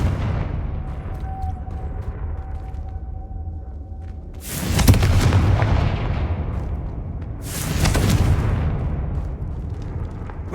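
The Confringo blast spell from the Hogwarts Legacy video game fires twice, each a loud sudden explosive boom with a rumbling tail, a few seconds apart, over a quiet low ambient hum.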